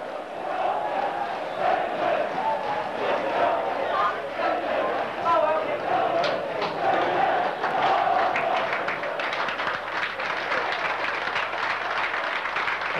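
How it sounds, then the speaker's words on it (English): Wycombe fans in the stands at a football cup final give sustained sporting applause, a steady crowd roar of clapping and cheering mixed with shouts that holds at an even level throughout. "sporting applause from the fans at Wycombe"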